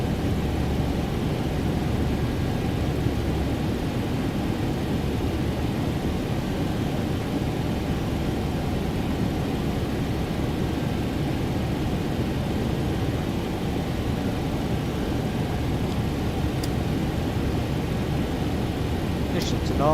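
Boeing 737-800NG airliner climbing after takeoff, heard from inside the cabin as a steady, loud broadband engine and airflow roar that holds constant throughout with no distinct events.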